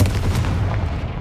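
A Confringo spell blast in Hogwarts Legacy, a single heavy booming explosion at close range that rumbles and fades over about a second.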